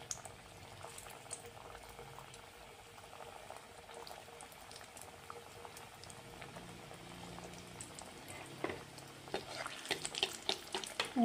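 Puff pastry patties fry in hot oil with a steady, fine bubbling sizzle, and sharper crackles and pops grow louder toward the end; no voices.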